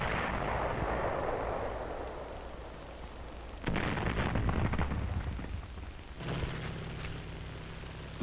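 Artillery fire comes from emplaced Japanese weapons during World War II fighting on Guam, with heavy booming bursts over a constant rough, noisy background and a renewed rumbling blast near the end.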